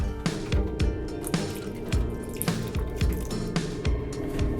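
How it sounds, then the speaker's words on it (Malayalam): Water is poured into a pot of simmering grapes on high heat for a non-alcoholic mulled wine, giving repeated wet drips and squishy splashes with a steady bubbling bed underneath, close and moderately loud. "1 കപ്പ് വെള്ളം കൂടി ആഡ് ചെയ്ത് കൊടുക്കുകയാണ്"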